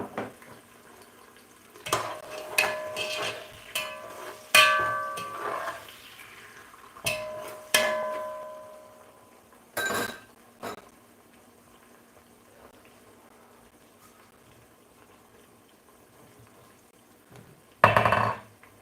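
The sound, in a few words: sliced onions frying in a pan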